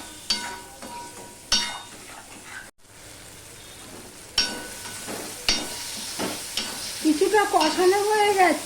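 Spice masala with turmeric and a splash of water is stir-fried with figs in a pan, giving a crackling sizzle broken by repeated spatula scrapes and stirring knocks, louder toward the end.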